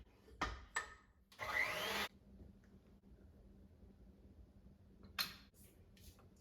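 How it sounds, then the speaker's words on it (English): A utensil stirring thin Oreo chaffle batter in a bowl gives a few short scraping rubs and knocks, quiet and close, separated by near-silence. "And we'll give it another stir."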